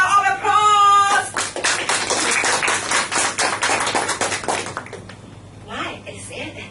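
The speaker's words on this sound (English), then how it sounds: "Please give you a big round of applause." A meeting audience claps together after a short tonal sound at the start, the clapping dense and fairly loud for several seconds before thinning out into scattered claps and room noise.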